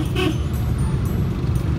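Vehicle horn honking from behind on a busy road, a sustained toot over a heavy rumble of nearby traffic engines, loud and close.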